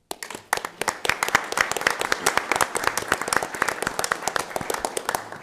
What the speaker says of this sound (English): we'll do that in a round of applause